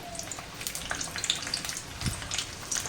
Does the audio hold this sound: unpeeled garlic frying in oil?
yes